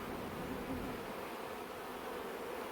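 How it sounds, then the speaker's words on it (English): Honey bees swarm at the entrance of a strong hive, defending it against wasps, making a faint, steady buzzing drone that continues unbroken throughout. "This is a strong hive. You can see the amount of bees at the entrance."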